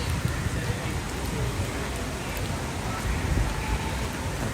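Steady rain pours across an Animal Kingdom theme park, a constant wash of drops hitting the ground and surfaces, close and fairly loud throughout.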